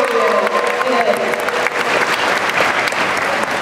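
A graduation ceremony audience at a university applauds in a steady, dense wash of clapping from a large crowd, with voices faintly mixed beneath.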